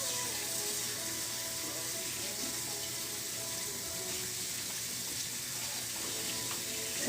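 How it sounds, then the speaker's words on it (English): Tie-dyed shirts are rinsed under a running faucet, producing a steady, loud hiss of flowing water with faint splashing throughout, with no speech. "So we're rinsing out tie-dyes that I've let sit for a week."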